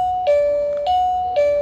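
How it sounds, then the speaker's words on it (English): A wireless electronic doorbell chime rings three times in quick succession, each a clear, sustained tone, close and loud. "You just press this part here and the bell chimes."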